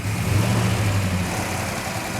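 A supercar engine fitted with mechanical rockers idles steadily nearby, a low droning hum with a light busy rattle running through it, loud and continuous with no talking.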